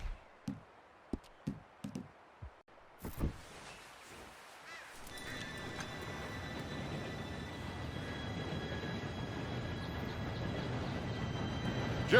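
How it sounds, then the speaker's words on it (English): A steam-era train rolls in within the Western game Red Dead Redemption II: a few sharp clanks and taps, then a rising rumble and metallic screech as the locomotive and cars draw near and grow steadily louder. "Train should be here any minute now."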